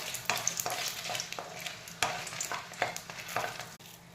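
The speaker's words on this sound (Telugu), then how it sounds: "కొద్దిగా ఆయిల్ వేడెక్కిన తర్వాత తగినన్ని మిరపకాయలు ఇవి కొద్దిగా వేయించుకొని" Dried red chillies fry in hot oil with a continuous close sizzle, broken by a series of sharp stirring scrapes and clicks at irregular intervals, no voices.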